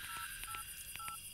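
A quick run of keypad dialing tones, several short beeps pressed in an uneven rhythm, clear and close with no talking.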